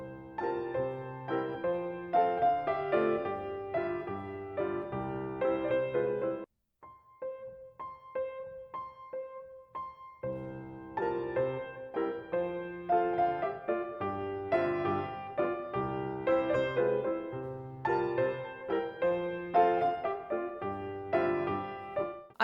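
Piano playing a Chopin piece with the sustain pedal held down throughout, giving a blurred, ringing wash of chords that pauses briefly for a few sparse high notes before the full, steady texture returns, with no talking.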